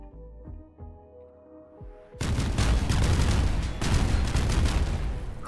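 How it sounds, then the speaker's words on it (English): Cargo pods crash down in the RimWorld video game, a sparse series of thuds giving way to a sudden loud barrage of overlapping explosions that rumble and crackle continuously to the end. "Just major explosions as the cargo pods drop."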